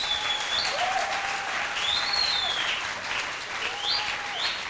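A church congregation at a seminar applauds steadily and loudly throughout, a dense wash of many hands clapping, with faint tonal sweeps riding above.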